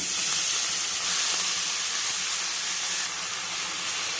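Chopped fenugreek leaves hitting hot oil seasoned with asafoetida, dried red chillies and turmeric give off a steady, close sizzle and hiss that holds loud and even throughout, easing slightly toward the end.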